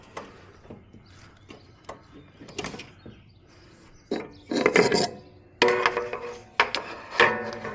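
A used riding mower's blade engagement lever is pulled to disengage, giving scattered clunks, then louder rubbing and scraping bursts as the tensioned spring releases, close and without talk.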